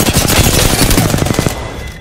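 Rapid automatic gunfire from a battle in the video game Apex Legends, loud and dense bursts rattling continuously for about a second and a half before cutting off and trailing into a quieter tail.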